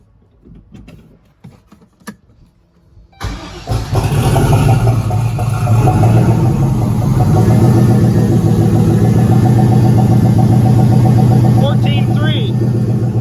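A turbocharged LS V8 fitted in a Caravan cranks, catches and settles into a loud, steady idle that runs close by through the rest of the clip, after a few quiet shop noises at the start.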